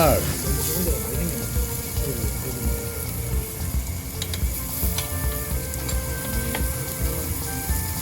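Skin-on pork belly sizzles and spits over a charcoal grill at a restaurant, a dense, steady crackling hiss with scattered pops, fairly close and continuing without a break.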